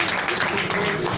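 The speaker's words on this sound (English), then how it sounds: "Okay, round of applause, please." Audience applause at a launch event, a steady, dense wash of clapping from a crowd that fills the whole moment without pause.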